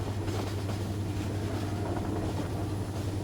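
A steady, dense rumble of a train running through forest at night, with a constant low drone and broadband rolling noise throughout and no pauses or voices.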